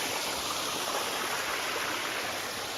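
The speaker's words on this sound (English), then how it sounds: "Check out that waterfall." A waterfall and stream on a South Carolina foothills hiking trail make a steady, close rushing roar that fills the clip with no voices.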